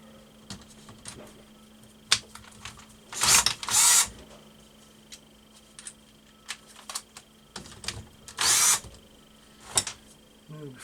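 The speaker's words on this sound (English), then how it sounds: "And now we'll take these the bolts out for the stator plate." Bolts are backed out of the stator plate of a Husqvarna TC65 engine with short bursts of a power tool, separated by quieter metallic clicks and handling noises.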